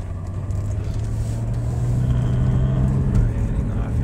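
A 1992 Mercedes-Benz 300CE with a sunroof, its engine revving freely while driving, gives a steady low rumble with a rising hum. Cabin noise is continuous and fairly close, with no clear talk.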